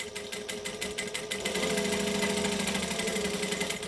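Close, steady motor whir and needle chatter from a home sewing machine at a joining stitch length, first a few short choppy pulses during the back stitch, then a smooth continuous run forward.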